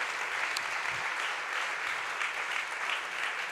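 Sustained applause from an audience at a French-language talk, a dense steady patter of many hands clapping evenly throughout.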